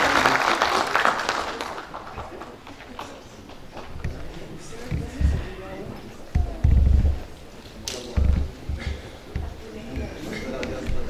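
Audience applause at a workshop on ICT and economic intelligence in Africa, given for a speaker from Cameroon: scattered, uneven claps in bursts, not very loud, mixed with nearby talking and movement in the room.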